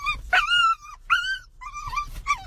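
A dog whimpers and whines in high, rising cries, several eager yelps in quick succession, close and loud.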